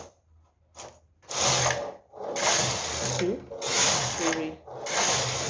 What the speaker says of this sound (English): change it back to plain knitting and knit 4 rows